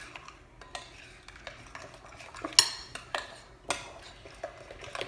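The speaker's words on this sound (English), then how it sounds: "I'll go ahead and get this stirred up" A spoon clinks and scrapes around a bowl while stirring meatloaf mixture with a raw egg, in irregular close knocks and swishes with no talking.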